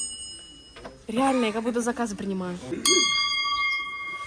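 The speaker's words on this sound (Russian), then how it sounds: "О, это что за колокольчик?" A small bell rings with a bright, sustained metallic ding that begins midway and holds steady to the end, after a person speaks over a quiet background.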